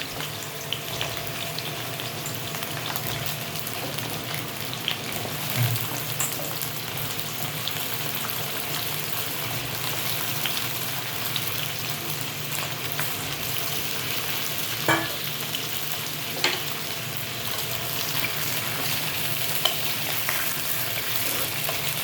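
Potatoes and halved pointed gourd fry in oil with a constant, dense, loud sizzle, with occasional faint stirring clinks, and no talk.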